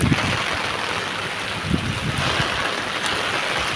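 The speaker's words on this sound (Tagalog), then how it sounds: "sobrang lakas ng hangin, ulan super typhoon dito" Heavy typhoon rain roars continuously with gusting wind in Hong Kong, a dense, loud wash of noise with no voices.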